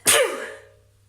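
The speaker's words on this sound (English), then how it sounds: "I'm going to sneeze." One sharp, close sneeze bursts out loudly, then trails off in a brief fading exhale, alone with no talk around it.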